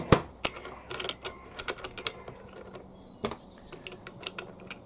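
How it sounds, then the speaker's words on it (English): A nut comes off the trimming head of a HYMT5200X brush cutter, turned with an Allen key on a left-hand thread, giving close, sparse metallic clicks, taps and scraping rattles with no talk. "I'm just going to remove the nut."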